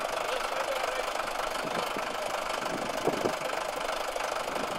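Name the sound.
tractor engine running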